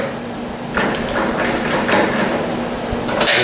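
A metal lathe runs at 360 RPM while squaring up the end of a tube. A continuous close machine hum carries a faint ringing tone, with scattered light metallic clicks and knocks from the cut.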